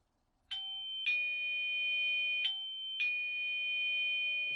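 A Eufy video doorbell sounds its electronic chime during setup: four clear, bright ding tones in two pairs, close and loud, each ringing out with a sustained tail over a faint steady hum, no voices.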